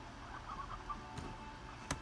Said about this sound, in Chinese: 母鸡